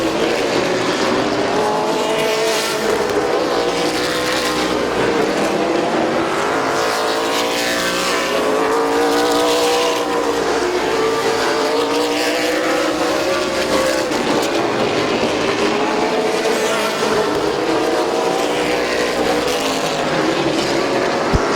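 Race cars circle a Midvale Speedway oval with the leaders working through lapped traffic: a loud, continuous engine roar with pitch rising and falling as cars sweep past close by.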